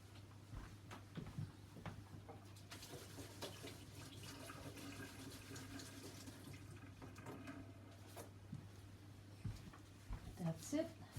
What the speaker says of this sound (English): Gotta just wash my hands.